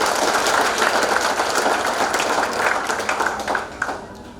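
Audience applause at a church worship gathering, a dense wash of clapping that holds steady throughout and thins slightly toward the end.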